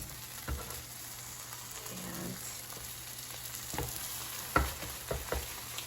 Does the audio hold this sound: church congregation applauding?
no